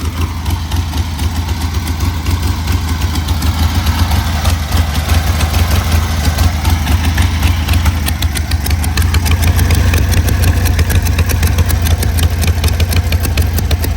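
A 1973 Harley-Davidson Sportster motorcycle engine idles steadily nearby with the choke off, a continuous loud low throbbing rumble that holds even throughout without talk.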